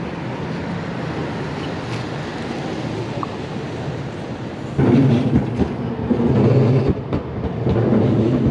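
A metro train rumbles past with a steady rolling roar that swells louder partway through and stays strong, with some wind noise and no talking.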